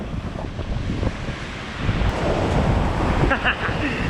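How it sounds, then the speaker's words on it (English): Ocean waves break and wash against an island shore, a loud rushing surf that swells toward the end, with heavy wind buffeting the microphone. "We're going to get melted by this wave."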